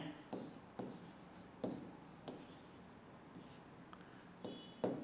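Chalk or marker writing a Hindi word on a board during a grammar lesson, quiet scratchy strokes and taps at irregular intervals, close by with faint room noise and no clear talking.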